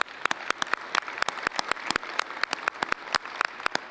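Thin, scattered clapping from a small workshop audience: distinct individual hand claps land at an uneven quick rhythm over a quiet room for about four seconds.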